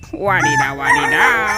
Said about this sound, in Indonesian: Wah, ini ada ayam berkokok.